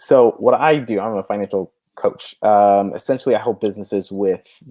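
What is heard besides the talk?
No distinct noise like a dog, phone or traffic.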